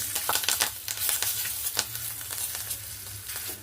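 Curry leaves and slit green chilies sizzling in hot oil for a raw mango dish, a dense, crackling fry with rapid popping spatters, steady and close, with no talking over it.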